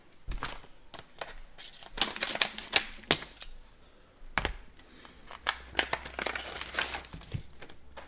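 Scissors cut and crinkle the plastic wrapping of a Pokémon booster pack, giving close snips and rustling crackles in irregular bursts with brief pauses, and no talk.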